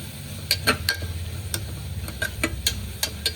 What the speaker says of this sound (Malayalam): വെളിച്ചെണ്ണയിൽ സവാള ഇട്ടു, പിന്നെ വഴറ്റാൻ കുറച്ച് ഉപ്പ് ഇട്ടു